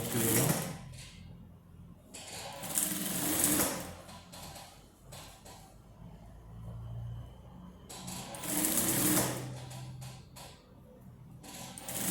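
A sewing machine stitches a wrap dress in quick rapid bursts, each lasting a second or two and separated by quieter pauses with faint handling noises. It is heard up close in a quiet room.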